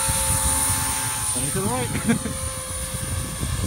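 An OXY3 Sport RC helicopter flies nearby, its steady whining rotor and motor drone running throughout beneath people talking.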